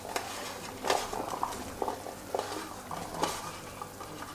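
Diced turnips tumble into a simmering spring vegetable minestrone, giving soft plops and stirring clatters over a gentle bubbling sizzle, close and fairly quiet, with no talk.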